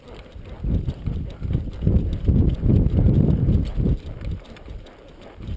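A horse's hooves clip-clop steadily on the ground during a ride, a close, loud rhythmic stream of footfalls with no talk.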